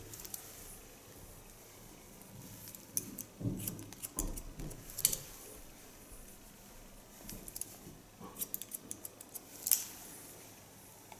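Scissors cutting hair in straight lines during a haircut, making soft, close snips at irregular intervals, with light crisp clicks over a quiet room background.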